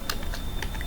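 Quick burst of typing on a computer keyboard, several crisp close key clicks in rapid irregular rhythm, heard alone.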